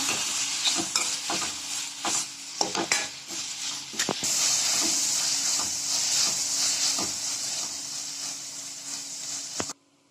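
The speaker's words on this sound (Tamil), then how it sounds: "இப்போ தக்காளியை நல்லா வதக்கிக்கோங்க." Tomatoes sautéing in a hot pan for Kumbakonam kadappa, a steady close sizzle and hiss broken by frequent scrapes and stirs of a spoon against the pan, ending abruptly.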